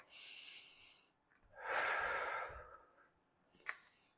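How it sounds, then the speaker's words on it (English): Deep breaths during a Pilates exercise: a breathy inhale, then a louder, longer exhale and a brief sharp sniff, close to the mic with no talk. "Just make sure you're breathing deeply."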